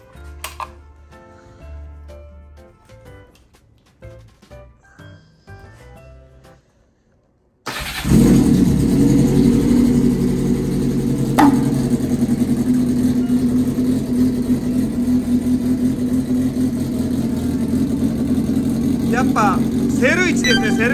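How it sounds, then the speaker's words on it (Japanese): After several seconds of quiet clicks and shuffling, a Honda CBX motorcycle engine cranks on the electric starter and fires, settling into a loud, steady idle with occasional revs. "ちょっとエンジンかけてみましょう"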